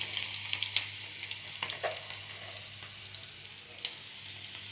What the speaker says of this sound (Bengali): এখন আলুটাকে ভালো করে ভাজা করে নেব।